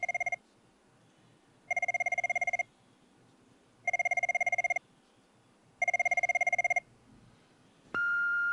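A telephone rings for an older woman who hears poorly, four evenly spaced electronic ring bursts with short silences between, loud and close, followed by a steady tone as the call connects.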